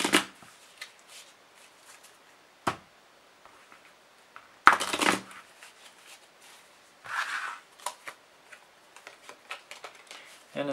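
A deck of playing cards for a board game is shuffled in several short, crisp riffling bursts separated by quiet pauses, close and moderately loud.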